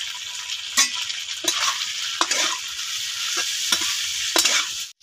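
Chopped tomato frying in a hot pan on low heat for a fish curry, a steady loud sizzle with repeated scraping stirs of the spatula at irregular intervals, close and without talk.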